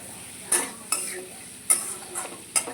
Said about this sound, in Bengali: আমি একটু লঙ্কা পাউডার দিয়ে আমি ভালো করে ভালো করে মশলাটাকে কষিয়ে নেব